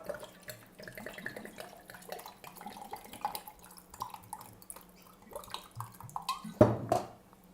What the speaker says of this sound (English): So it's about this much water I'm adding.